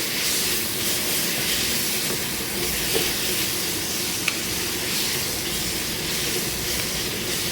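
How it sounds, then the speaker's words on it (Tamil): Tomatoes and onions with salt sauté in a pan for a country chicken curry, making a loud, constant hiss and sizzle with no pauses and only a faint tick or two. "நல்லா தக்காளி வெங்காயத்தோட பச்சை வாசனை வந்து நல்லா போகிற அளவுக்கு வெந்து வரட்டும், வதங்கி வரட்டும்."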